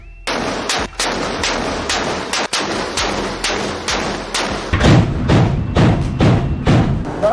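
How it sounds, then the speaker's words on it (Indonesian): AK-176 76 mm naval gun firing, a rapid series of heavy booming shots at a steady rhythm, about a dozen loud blasts each followed by short rumbling decay, with no talking. "Meriam utama AK-176 76 mm untuk pertempuran jarak dekat."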